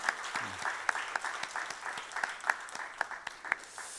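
A church congregation claps in encouragement, a moderate patter of many hands with distinct individual claps popping out, fairly close and somewhat uneven in rhythm.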